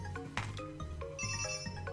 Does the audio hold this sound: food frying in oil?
no